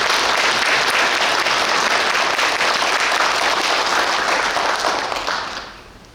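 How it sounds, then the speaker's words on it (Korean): Applause in honour of the professors at a seminary chapel service, loud sustained clapping from a large gathering that fades out near the end. "이 시간 우리 멋지게 한번 축복의 박수 교수님들."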